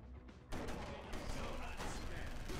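Shotgun firing in the video game LA Cops: a loud blast that runs into a dense, rumbling stretch of gunfire, with voices mixed in.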